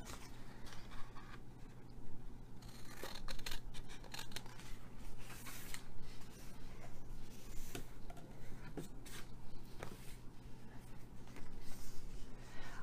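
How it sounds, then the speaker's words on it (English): A half milk carton being cut with scissors for a box makes repeated small snips, crinkles and scrapes of paperboard, close and fairly quiet over a faint steady hum. "So we're gonna cut the half inch off that one and this one too"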